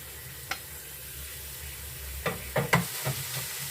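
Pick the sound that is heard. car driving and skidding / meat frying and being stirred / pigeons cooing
meat frying and being stirred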